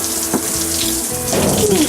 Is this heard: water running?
yes